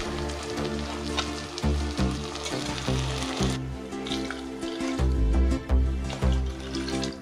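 Water pours steadily into a pot of soaked rice and sprouted grains for a sprouts pulao, a continuous splashing, resonant gush close up that surges and eases in a couple of pours without any talk.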